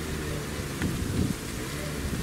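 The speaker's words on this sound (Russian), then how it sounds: "Сильный ветер." Wind rushes and gusts across the microphone in a steady roar, with a brief louder buffet partway through and no clear talking.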